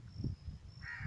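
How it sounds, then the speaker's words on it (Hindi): A crow caws harshly in a rural village after rain, a few rough calls at moderate distance over quiet background noise. "कौवा कितना ज़ोर से चिल्ला रहा है मुझे देख के"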